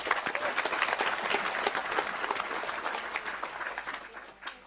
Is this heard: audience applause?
yes